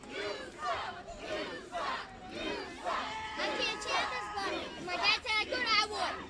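A wrestling crowd at an OCW Flashpoint event chanting and cheering, rhythmic group chants and excited shouts swelling in waves, with voices overlapping throughout.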